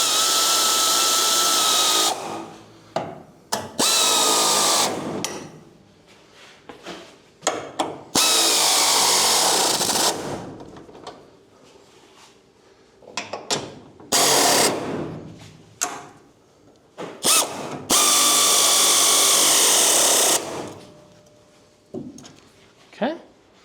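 A power drill tightens the sliders on a 1968–74 Chevy Nova in loud, close bursts of whirring with pauses between them, while a person talks intermittently.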